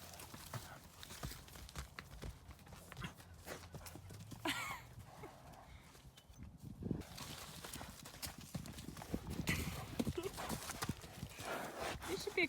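Horse hooves clip-clop at a walk, with close irregular thuds, shuffles and a brief pause midway, while people talk over them.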